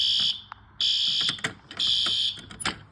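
A System Sensor P2R fire alarm horn strobe blaring indoors, loud harsh buzzing horn blasts in a repeating on-off pattern, close and with no speech.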